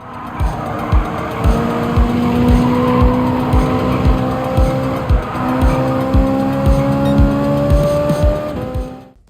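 Race car engine from Gran Turismo 7 roars steadily with rising gear-shift harmonics and repeated tire squeals and skids, loud and close, no talk.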